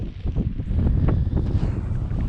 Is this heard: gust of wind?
yes